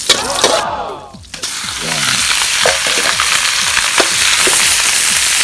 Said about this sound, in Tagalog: gisa muna natin yung bawang sa sibuyas